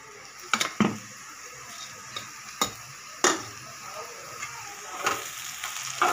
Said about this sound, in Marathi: आता याच्यामध्ये आपण टोमॅटोची पेस्ट टाकूया